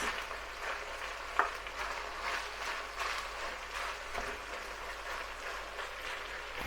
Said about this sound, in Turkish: Soğanlarımızı ilave ediyoruz. Bu şekilde. Birazcık karıştırıyoruz.